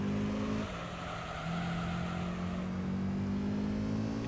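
A Honda NSX with an aftermarket exhaust runs in the Gran Turismo 3 racing game, a steady droning engine tone that dips briefly as if shifting, then holds a smooth even pitch, faint and continuous with no talking.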